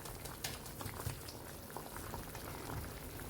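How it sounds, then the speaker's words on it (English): Soya chunk and potato curry bubbling to the boil in a pot, a steady close patter of bursting bubbles and liquid blips with no talking. "and then just bring it to the boil"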